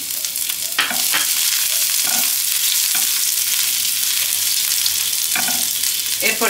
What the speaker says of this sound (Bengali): তেলটা আমার গরম হয়ে গেছে, দিয়ে দিলাম আদা কুচানো।